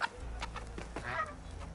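A squawking, clucking game bird cries out in a PS4 game: a few short, harsh calls in quick succession, fairly faint against steady low background noise and music.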